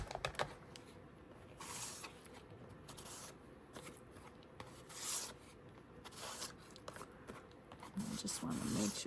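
A rubber stamp is pressed and rubbed against an ink pad, making soft, close, continuous dabbing and rubbing sounds over a quiet background, with a voice briefly near the end.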